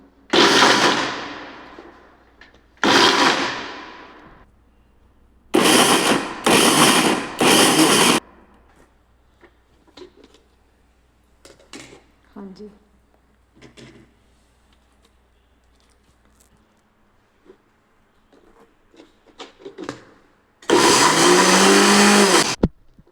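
A kitchen grinder crushing radishes for paratha filling, run in several loud whirring bursts separated by pauses filled with quiet handling clatter, then a final long burst.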